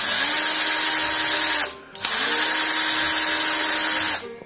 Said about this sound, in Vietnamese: Cái khoan mình hết pin sao thế nó yếu vậy.